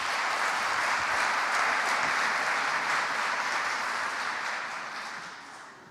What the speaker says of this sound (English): Big applause for Pedro.